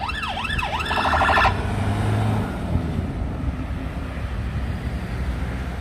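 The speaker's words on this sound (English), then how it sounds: "there's a lot of activity with ambulances at the moment" An ambulance siren wails with a rising-and-falling tone, then switches briefly to a fast yelp before cutting off abruptly, leaving steady roadway traffic noise.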